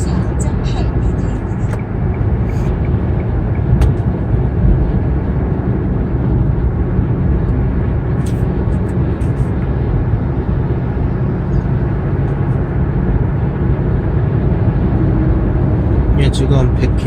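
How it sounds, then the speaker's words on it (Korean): A Kia Morning TA hatchback, recently bought at a court auction after sitting unused for six months, cruises on a highway at about 95–100 km/h, giving a steady, loud road and engine drone with a voice talking over it throughout. "95km 정도 되고 있는데 현재로서는 뭐 별 문제 없이 잘 달리고 있습니다"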